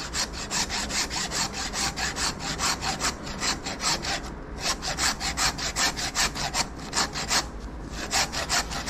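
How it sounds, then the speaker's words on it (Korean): A hand saw cuts between the ribs and neck bone of a front leg of meat during butchery, with steady, rhythmic back-and-forth strokes that rasp loudly and close with no talking. "그 느낌이 올 때까지 톱질을 합니다."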